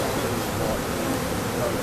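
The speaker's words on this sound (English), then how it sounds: "is to shake the bees out." Honey bees buzzing in an opened hive as the frames are shaken, a dense, steady, close hum that fills the whole moment without pause.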